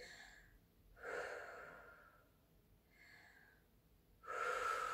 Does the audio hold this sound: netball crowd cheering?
no